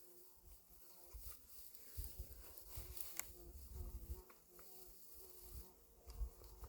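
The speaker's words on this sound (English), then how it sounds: "Hurry up or all the wasps come." Wasps buzz around a mule deer carcass outdoors, a faint steady drone with close passes that swell and fade, and no talking.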